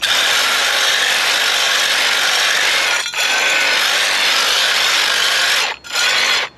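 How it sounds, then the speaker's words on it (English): A knife blade scraped steadily along a concrete driveway, a loud continuous gritty rasp that runs almost unbroken, with two brief pauses where the stroke lifts before resuming. "That's one of the best ways to sharpen it when you don't have a whetstone or something"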